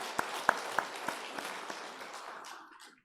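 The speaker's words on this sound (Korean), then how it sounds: "박수 한번 할까요?" A church congregation claps briefly during a Sunday service, the sound of many hands fairly soft and distant, thinning out and fading within a few seconds.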